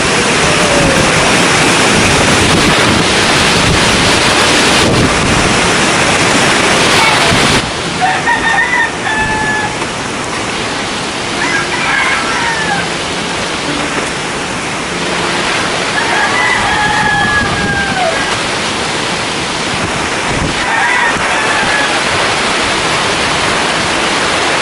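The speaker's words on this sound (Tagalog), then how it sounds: "Sobrang lakas ng hangin mga kalab." Typhoon Odette drives a strong wind in a steady, loud roaring rush that fills the whole scene, with roosters crowing at a distance partway through.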